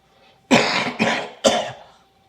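A man coughs three times in quick succession, harsh and close, each burst loud and raspy before trailing off.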